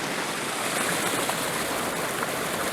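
Water streaming steadily over rocks near a tree, a continuous broadband rush at close range that neither rises nor falls, with no voices over it.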